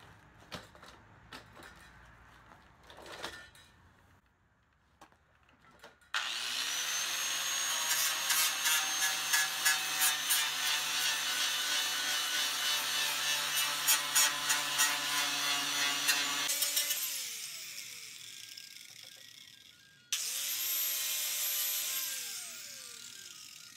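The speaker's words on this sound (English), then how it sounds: "I'm going to start grinding paint away, and you can watch." Power grinder stripping paint from a steel front apron panel, a loud continuous whirring grind with a wavering pitch that runs for about ten seconds, drops off, then starts again after scattered clicks and handling noises.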